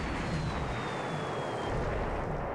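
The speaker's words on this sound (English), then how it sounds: "You can see here another Japanese bombing raid here on this sort of support task force" Japanese bombing raid on a naval support task force in the strategy game War in the Pacific: a dense, steady rumble of explosions and aircraft noise, with a faint whining tone falling in pitch, filling the whole stretch without talk.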